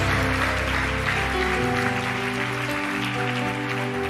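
Church congregation applause for the preacher, a continuous hiss of many hands clapping throughout, with sustained musical tones playing underneath.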